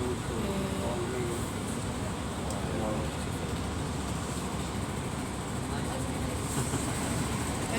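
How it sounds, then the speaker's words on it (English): A neighbouring train on an adjacent railway track rushes past a moving train near Wembley, heard as a steady, loud rumble and rail noise with faint screeches, from inside the carriage. "Another neighbouring train."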